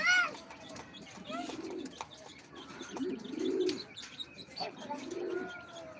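Several pigeons coo in low rolling phrases nearby, with a bright chirp at the start and scattered tweets among the repeated coos.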